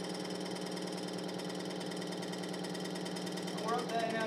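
A diesel engine runs steadily under a load test with weight applied, a dense mechanical drone that holds level throughout at moderate volume, with a brief faint shift near the end.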